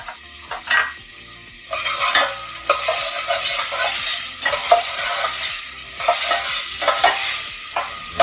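A mirepoix of carrots, onions and celery sautéing in a pan for mushroom soup, steady close sizzling with repeated stirring scrapes throughout, starting after a brief quieter moment.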